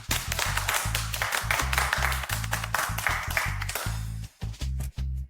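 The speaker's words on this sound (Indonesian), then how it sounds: "semuanya berikan tepuk tangan meriah" An office team applauds together, a close, dense burst of clapping hands that runs for several seconds before thinning into a few scattered claps near the end.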